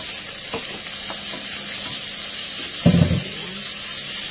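Egg being stirred into red fried rice in a pan, a soft steady sizzle with a couple of light stirs and one brief louder clatter near the end, no talking.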